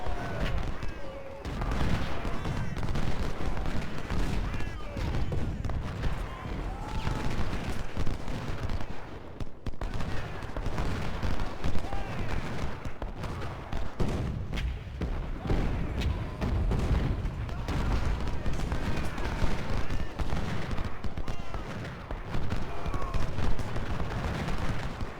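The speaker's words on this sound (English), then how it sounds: "now I might be able to get the, the sniper over here to shoot." Battlefield gunfire and cannon booms from the Ultimate General: Civil War game, a dense, continuous roll of shots and blasts under a voice talking throughout.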